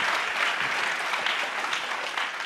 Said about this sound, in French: On doit applaudir très fort avec Blanca.